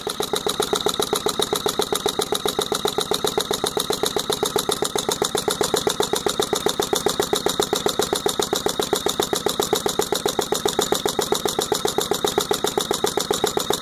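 Scott engine on its first water-cooled test run, holding a steady, even idle with a fast regular beat throughout, loud and close with no pauses.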